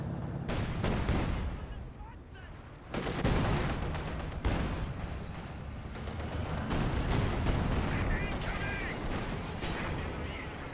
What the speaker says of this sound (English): We got another incendiary barrage forcing the cannon warfare